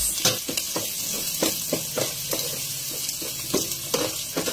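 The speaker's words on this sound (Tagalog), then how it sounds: "Lagyan na natin ng luya, baka kasi masunog yung bawang sa sibuyas" Ginger sizzling with garlic and onion in a hot pan, a steady frying hiss broken by repeated sharp clacks of a spatula stirring, close up with no talk.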